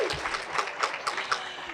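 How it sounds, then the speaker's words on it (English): An audience at a benefit luncheon claps in a brief, moderate burst of applause, with a few voices cheering over it. "You can clap."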